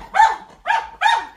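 A dog barks three times close by, loud and sharp, each bark spaced about half a second apart in a quiet indoor home setting with no talking over it.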